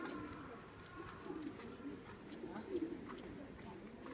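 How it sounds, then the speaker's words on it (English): Pigeons cooing softly and repeatedly nearby, low burbling calls over light background murmur and voices. "Bunch of little pigeons."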